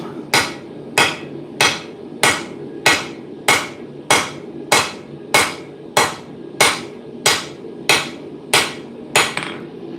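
A hammer forges bevels onto the sides of a steel bench chisel, a lap-welded socketed chisel of mild and high-carbon steel, with about fifteen loud, sharp ringing blows struck in a steady even rhythm, close and with no talk.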